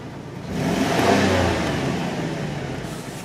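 A van with a bad alternator and faulty power steering runs roughly, its engine surging up in a rev and then settling into a steady, uneven idle, close and fairly loud with no talking.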